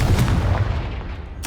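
A Confringo blasting spell explodes in the Hogwarts Legacy video game: a loud, close boom that fades away, followed by the sudden start of another burst.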